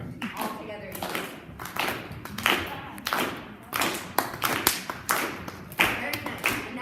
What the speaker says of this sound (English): start by like clapping all together